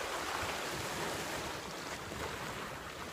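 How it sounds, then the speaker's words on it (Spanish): Ocean waves wash in a steady, dense roar of surf by the sea, with wind rushing across the microphone and no voices. "me empiezo a meter y a meter en la naturaleza, en las olas, en el mar,"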